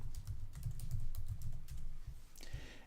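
Fingers tap out text on a computer keyboard in a quick, fairly regular run of soft clicks over a low hum, ending in a brief louder rustle.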